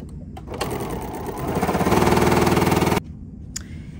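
A sewing machine stitches the side pieces of a quilted fabric tray with a quarter-inch seam, its motor rising into a fast, steady run for about two seconds before stopping abruptly, followed by a brief click.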